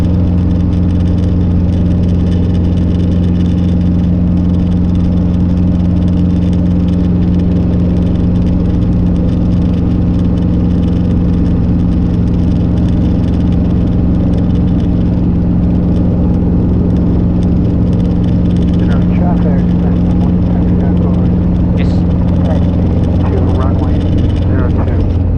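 A Robinson R22 training helicopter hovers in ground effect during a flight lesson, giving a loud, constant low rotor and engine drone heard from inside the cabin, with voices talking over it through the intercom.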